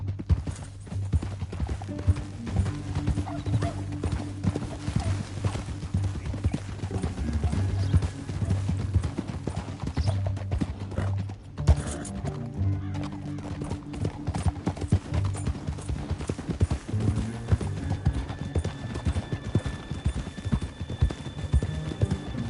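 Horse hooves clatter continuously in a fast, steady gallop in Red Dead Redemption 2, with a low rumbling drone underneath throughout.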